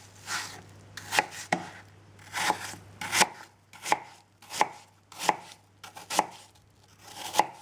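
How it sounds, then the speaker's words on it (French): Knife chopping apples into small cubes on a board, a steady series of sharp, close, evenly spaced taps with short pauses between strokes, with no talk. "Je détaille ensuite les pommes en petits cubes."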